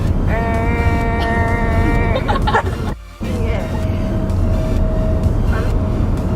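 A voice imitates a Toyota Prius accelerating with a sustained, slightly rising hum, then breaks off briefly. A flatter hum follows, all over steady background noise.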